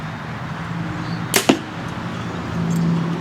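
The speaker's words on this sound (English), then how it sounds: "But I'll go ahead and shoot another one." An arrow looses from a bow with a sharp twang, followed a split second later by a thud at the target, each brief and crisp against a quiet outdoor background.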